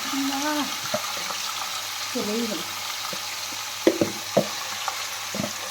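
Marinated mutton fries in oil with whole cardamom and cinnamon, a steady sizzle running underneath while people talk over it, with a few sharp clinks toward the end.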